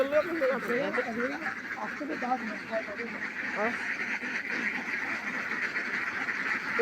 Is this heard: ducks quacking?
yes